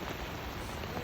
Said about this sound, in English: just when you think the rain can't get any more persistent